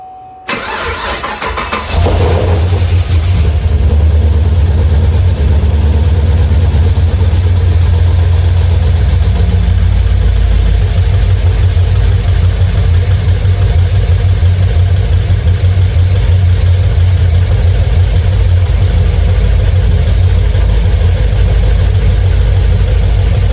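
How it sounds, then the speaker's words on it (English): A 2010 Camaro SS with an LS V8 and a failed rocker arm cranks for about two seconds, catches, and then holds a loud, steady idle for the remaining twenty seconds with no talking. "I hear injectors popping, but I don't hear a lifter tick."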